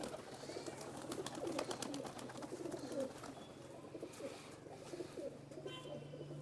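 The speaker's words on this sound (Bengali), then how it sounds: "এই যে আলামিন ভাইয়ের হাতে দুটা কবুতর এটা ছেড়ে দিলাম" Rajshahi local Giribaz pigeons are released, with soft repeated coos and bursts of wing flapping amid faint background noise; quiet overall, no clear talk.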